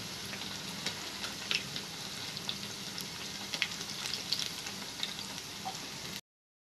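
Milmaker (soya chunk) vada deep-frying in hot oil, a steady dense crackle and sizzle with scattered sharp pops, close and even throughout until it cuts off abruptly, with no talking.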